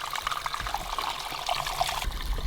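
Rainwater pouring from a gutter into a harvesting tank at an off-grid home in Panama, a steady close trickling and splashing stream that runs throughout without speech.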